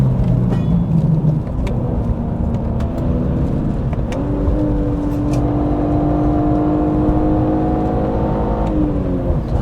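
A BMW E46 M3 runs a lap on a track, its engine droning loud and steady from inside the cabin, with a dense rumble and a rising whine as revs climb, plus scattered small rattles.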